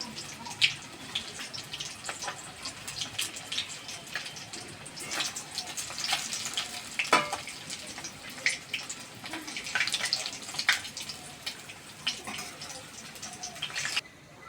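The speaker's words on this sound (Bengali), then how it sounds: "মাছগুলো ভালো করে লাল লাল করে ভেজে নিয়েছি, এবার তেল থেকে তুলে নিচ্ছি।" Rohu fish pieces frying in hot oil for a thin curry, a dense, hissing sizzle with scattered pops and crackles spread across the whole stretch, close and steady with no talk.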